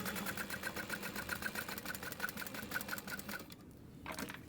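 A sewing machine stitches across the top of a fabric wristlet, a steady rapid mechanical whir with regular needle ticks, close and moderately loud, stopping briefly near the end before starting again.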